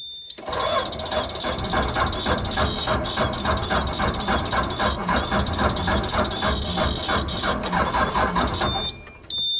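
A 1996 Bluebird bus engine cranks slowly on a low battery, the starter grinding in a loud rapid mechanical rhythm for about nine seconds before cutting off, with no talking.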